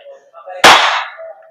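A WE Glock 17 Gen 5 airsoft gas blowback pistol fires one sharp, loud, close shot with a quick decaying tail, after a moment of faint low background sound.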